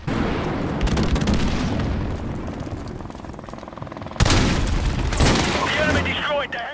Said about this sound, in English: my teammate's tactical RPG didn't really work out there